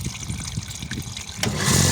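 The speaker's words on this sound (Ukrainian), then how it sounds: "Ми стравили, бачите, є краник, стравили повітря." Water and trapped air hissing and trickling from the bleed tap of a Mini Mixer 220 V plastering machine's hand-primed water pump, a close, steady wet rush that grows louder and gushes more strongly near the end.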